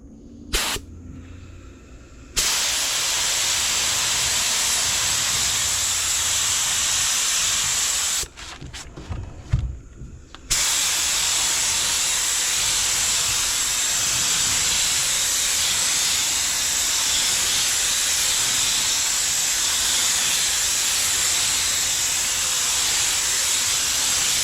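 A spray gun lays a second color coat over an epoxy-repaired speaker hole, a loud continuous hiss that runs for long stretches, with two brief pauses where faint handling noises come through.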